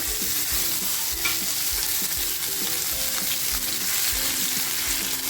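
Coarse-ground kharda masala hits hot oil tempered with cumin and asafoetida, a loud continuous sizzle and frying crackle with repeated scraping stirs in the pan, close and steady throughout.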